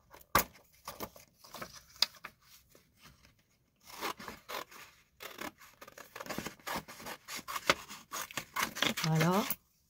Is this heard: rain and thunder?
no